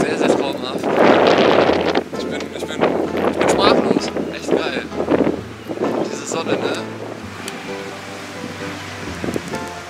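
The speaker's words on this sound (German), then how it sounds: "es ist eine angenehme Temperatur mit so einem leichten Wind, den ihr wahrscheinlich so gehört" Light seaside wind on the Australian coast rushes and buffets the microphone in uneven gusts, with a soft surf-like wash underneath while someone talks over it.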